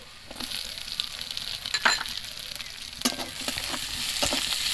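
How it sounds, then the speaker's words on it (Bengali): Chopped onion and slit green chillies fry in hot oil in a pan for a Bengali fish curry, a close, steady sizzle broken by sharp scraping stirs and spatters, with no voices. "পেঁয়াজটা একদম ভালো করে ভাজবো।"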